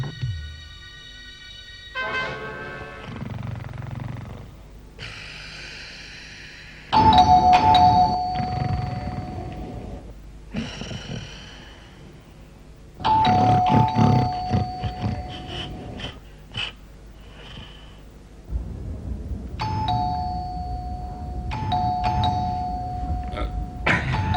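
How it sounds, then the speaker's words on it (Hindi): Doorbell rings again and again in a house from an old Hindi TV serial, bright tonal chimes recurring in several bursts over about twenty seconds, loud against a busy background with no speech. "इतनी घंटियां बज रही, सोमनाथ दरवाजा क्यों नहीं खुल रहा?"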